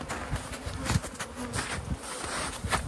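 Honey bees drone loudly and continuously around a hive during a mid-February check, a dense close buzzing with individual insects flitting past the microphone.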